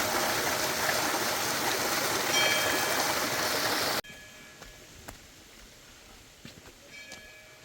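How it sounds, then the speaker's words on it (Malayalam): A clear, cold mountain stream rushes along a hiking trail as a steady broadband hiss, loud at first, then cutting abruptly to a quieter, softer flow. "നല്ല തെളിനീര് വെള്ളം, നല്ല തണുപ്പുണ്ട് കേട്ടോ വെള്ളത്തിന്"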